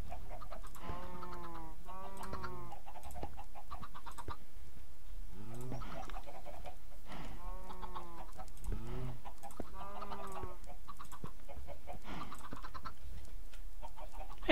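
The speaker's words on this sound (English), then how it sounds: "All right, chicken." Chickens in the Minecraft video game clucking in several short rhythmic bursts spread across the stretch, clear and near with no talk over them.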